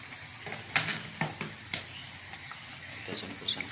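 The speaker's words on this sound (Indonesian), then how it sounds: "Kita aduk biar merata guys ya." A coconut milk mixture is stirred in a pan on a simple home stove, with soft sizzling and irregular scraping clicks of the utensil against the pan, close and fairly quiet, with no talking.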